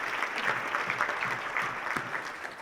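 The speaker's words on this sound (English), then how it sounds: "So y'all get an extra round of applause." Audience applause at a county community event, a steady dense wash of clapping from a crowd that holds evenly for the whole stretch with no voices over it.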